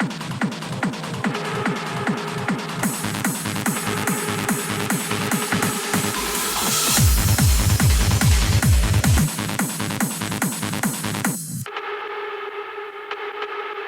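A hard trance bleeper synth lead from the Nexus 2 preset Orchid Drops, playing a fast, loud, repeating melodic pattern with a driving low pulse underneath, then stopping to leave a long reverb tail ringing out.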